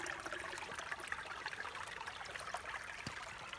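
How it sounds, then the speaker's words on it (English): Water rushes steadily through an E-Z Sluice gold sluice box while bedrock gold material is run, a continuous close trickling wash with no voices. "the water flow's starting to back off a little bit"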